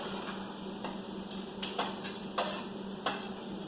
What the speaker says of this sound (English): We're going to add our garlic now.